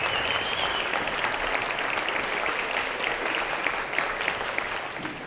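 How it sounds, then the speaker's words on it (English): An audience claps for students at a school event: dense, sustained applause from many hands that holds steady and then begins to taper near the end, with almost no talking. "Let's give them a round of applause for all their commitment and dedication"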